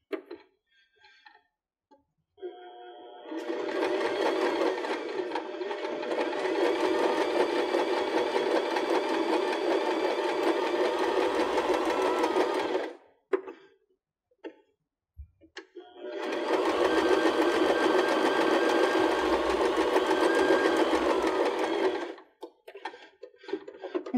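A Baby Lock BL9 sewing machine stitches cork fabric appliqué in two long, steady runs of fast needle chatter, loud and close, separated by a brief pause with soft clicks.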